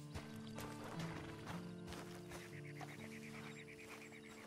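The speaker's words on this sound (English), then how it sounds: "And you better get on this horse." Horse hooves clip-clopping in the game Red Dead Online, a run of irregular hoof knocks over a faint background, with a brief animal call.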